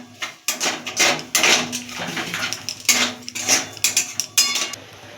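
Spoon clattering and scraping inside a pan as a coconut and milk filling is stirred over medium heat, loud uneven strokes in quick succession close by.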